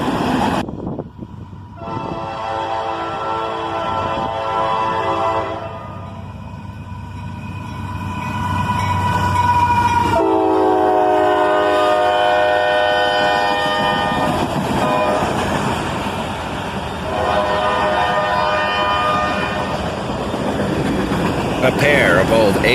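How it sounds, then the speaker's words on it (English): A covered hopper freight train led by a Canadian Pacific AC-44CW and a BNSF ES-44DC rumbles past close and loud, with a long multi-tone horn blast and sustained rolling-car noise throughout. "A covered hopper train, led by a Canadian Pacific AC-44CW and a BNSF"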